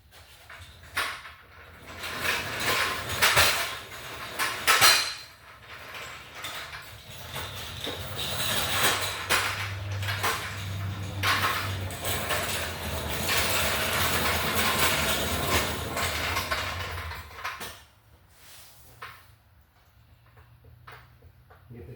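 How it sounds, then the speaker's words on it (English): An LS engine is raised with a chain hoist, producing repeated ratcheting and clanking of the chain and pawl in uneven bursts before the noise drops off near the end. "Jack that motor up."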